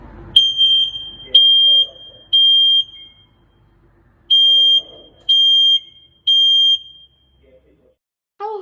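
A smoke detector alarm sounds in a firefighter demonstration, giving six sharp, piercing beeps in two groups of three with short gaps between them, loud and clear over a quiet background.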